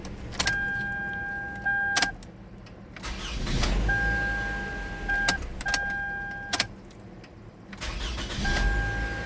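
A 2013 Toyota Venza 2.7L engine turns over and catches repeatedly, each start marked by chimes and sharp clicks, settling into a low idle between attempts.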